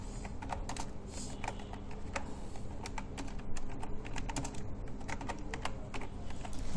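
Rapid, steady clicking of a computer keyboard as alt text is typed into a WordPress page, close and fairly quiet, continuous keystrokes with no talk.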